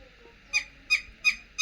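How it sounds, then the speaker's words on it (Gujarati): Four evenly spaced, high, squeaky bird calls ring out from behind a house beside a green cotton field, each call short and clear over quiet background. "આ કયા પક્ષીનો અવાજ છે કોમેન્ટ કરો"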